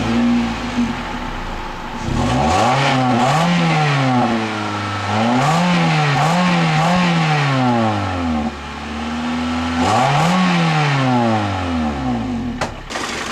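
A 2007 Toyota Corolla S with a slightly buzzy 1.8-liter four-cylinder engine, revved up and down in three or four distinct pulls from a steady idle, heard loud and close with no talking.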